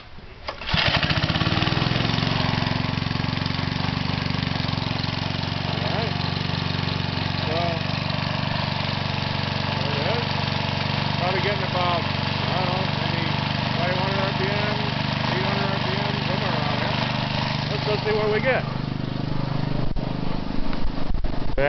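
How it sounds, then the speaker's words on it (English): A small motor starts up and runs steadily, driving a permanent magnet alternator in a home wind-turbine test rig; a continuous close mid-pitched engine drone with a faint tonal whine, ending abruptly near the end. "So anyway, let's start up the motor."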